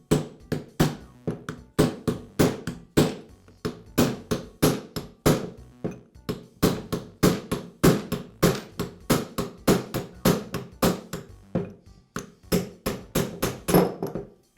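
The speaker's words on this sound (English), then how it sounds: "I'll use a cold chisel to tap the chuck off of the shaft" A cold chisel is struck repeatedly to tap the chuck off the shaft of a Milwaukee Hole Hawg drill, producing loud, close, sharp metallic blows in a steady rhythm of about two to three per second.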